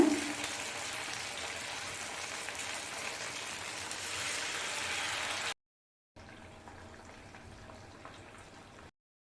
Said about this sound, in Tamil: எண்ணெய் சூடானதும் மசாலா தடவை வச்சுக்கிற மீனை ஃப்ரை பண்ணிக்கோங்க